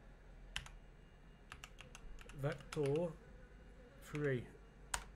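Typing on a computer keyboard while editing a QBCore FiveM server config: quick clusters of near, crisp key clicks with short pauses, and someone speaking between the keystrokes.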